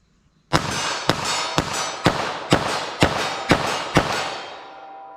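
Eight sharp .380 ACP pistol shots loaded with jacketed hollow point rounds, fired at a target 25 yards away in a steady rhythm about half a second apart, each crack loud and close with a brief ringing tail.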